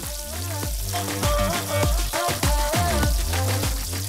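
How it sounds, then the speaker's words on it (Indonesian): Ducks deep-frying in very hot oil, a loud, dense crackling sizzle with rapid popping bursts throughout, close and continuous without talk. "Kita jatuhkan para bebek ini ke minyak yang udah panas banget guys. Lalu kita goreng bebeknya itu sampai garing."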